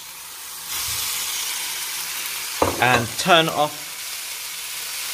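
Pasta tossed into a frying pan for carbonara gives a steady, close sizzle and hiss throughout, with a voice speaking briefly over the frying midway.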